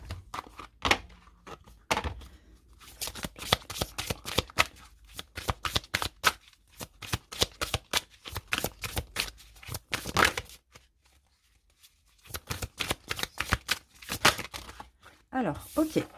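Oracle number cards are shuffled in rapid, riffling bursts with brief pauses between rounds, close and crisp, their papery flutter running almost continuously alongside a speaking voice.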